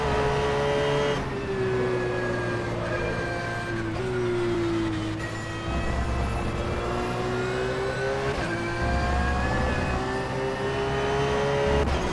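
Porsche 911 GT3 engine in the rFactor 2 racing game at Silverstone, a loud steady high-pitched drone that climbs through each gear, drops abruptly at several shifts, and runs continuously throughout.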